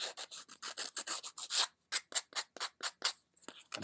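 Quick, rhythmic rasping strokes of sanding a wooden model, close and steady, with a brief pause before a few slower, separate passes.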